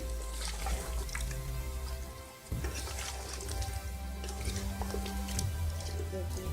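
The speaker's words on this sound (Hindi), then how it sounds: "तो अब हम इसमें पानी डाल देते हैं।" Water poured into a pot of Pakistani aloo gobi gosht, potato and cauliflower with meat, gives a steady close splashing wash that runs the whole time, with a short dip partway through.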